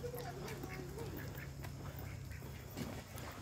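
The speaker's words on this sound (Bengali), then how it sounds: "হাঁস ধরতেছে।" A duck being caught in a village quacks repeatedly in harsh, nasal bursts, close and fairly loud, with faint voices and rustling in the background.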